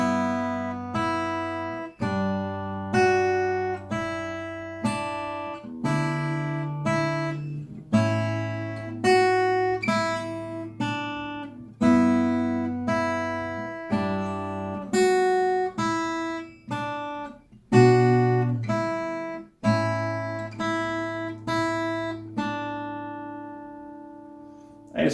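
Slow acoustic guitar picks out a melody, each plucked note ringing and fading before the next in an unhurried, even pattern, clear and close with no talking.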